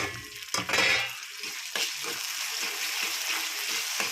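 Onions and tomatoes frying in a pan for a koyyakura gongura curry, a steady close sizzle with a few sharper stirring scrapes and clatters, no voices.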